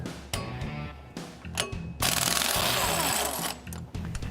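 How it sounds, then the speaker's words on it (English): Flywheel bolts being backed out of a clutch assembly during rear main seal work: several short bursts of an impact wrench hammering, then a longer continuous rattling run, close and loud. "pull these flywheel bolts out, and that way we can get to our rear main seal"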